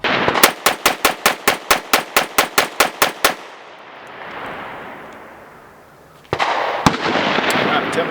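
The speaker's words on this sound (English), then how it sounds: "with the Banshee system, whether it is 9, 40, 45, or the 10mm, it is very soft shooting" A CMMG Banshee MK10 in 10mm fires a rapid string of about fourteen sharp, loud shots, then falls quiet before two more close cracks ring out over a noisy background.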